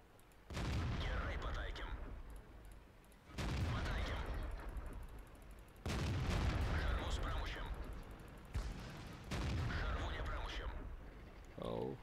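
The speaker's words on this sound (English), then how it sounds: "I can fire 4 hits, that will really kill T-32 tank." An AMX 50 100 tank cannon fires in World of Tanks, with several loud, booming blasts spaced a few seconds apart, each followed by a rumbling tail. Game battle noise continues between the shots.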